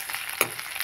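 Food dry-fries in a pan, a soft steady crackle with a few small stirring clicks, brief and fairly close.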